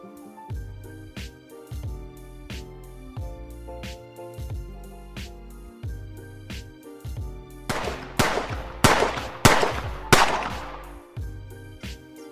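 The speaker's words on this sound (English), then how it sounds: "let's start testing the gun" A gun being test-fired on a forensics lab firing range, a sequence of sharp reports with a steady rhythm at first, then a louder, more crackling burst of shots near the end, with no voices.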